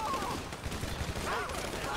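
A rapid burst of gunfire in GTA 5 with the LSPDFR mod during a terror-attack scenario, steady crackling shots over a dense background, with no clear pauses.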